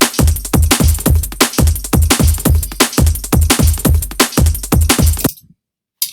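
A dry, punchy drum break with no bus processing plays loud and upfront, steady kick and snare hits in a repeating groove, then cuts off abruptly into silence.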